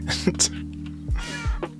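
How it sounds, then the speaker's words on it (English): Cat meows from a Minecraft server, a few short mewing calls over steady game background tones, with low thumps and some speech mixed in. "Oh my god, I have cats in Alone SMP."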